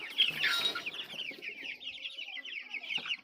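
Rapid, high-pitched peeping of about seventy-five chicken chicks, a busy chorus of overlapping chirps with a brief flutter and scuffle near the start.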